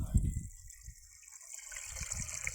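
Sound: water gushing from a broken tap on a farm

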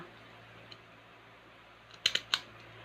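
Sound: scissors trimming a folded banana leaf

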